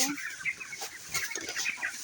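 Several chickens on a poultry farm hit by a viral disease cluck and chatter close by in overlapping calls, a busy flock sound with no talking.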